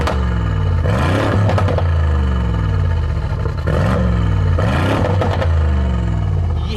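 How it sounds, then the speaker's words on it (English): A loud exhaust on a Mansory AMG G63 SUV in Sport Plus with valves open revs hard in repeated bursts, rising and falling with crackles and rumbling between pulls, close by and with no talking. "The noise of those exhausts, wow."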